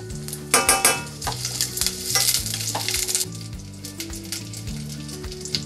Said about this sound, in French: Une fois qu'elle est chaude, j'ajoute mes échalotes émincées.